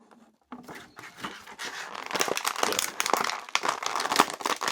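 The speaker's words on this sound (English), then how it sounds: "I really don't like the sound of crushed plastic." Stiff plastic from a toy figure's cape, the cloak of a McFarlane DC Multiverse Black Adam, is crushed and crinkled close up after a brief quiet start, with irregular loud crackling bursts.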